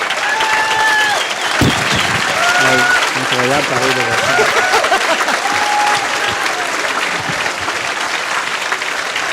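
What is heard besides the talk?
standing ovation applause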